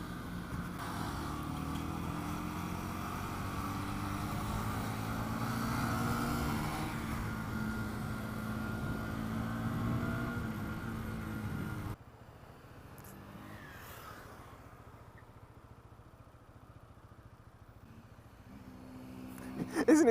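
Big motorcycles riding on a road, with a steady engine drone and changing pitch under wind rush, which drops to a quieter rumble partway through.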